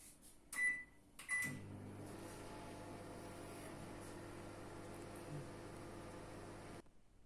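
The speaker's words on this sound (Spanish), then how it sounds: "El microondas." A household microwave oven: a couple of clicks and a door or button knock, then a steady humming drone of the oven running for several seconds before it cuts off, close and alone.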